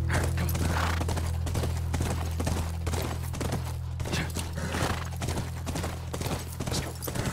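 Horse hooves clip-clop at a steady walking rhythm in The Last of Us, close and fairly loud over a constant low game-ambience hum, with no talking.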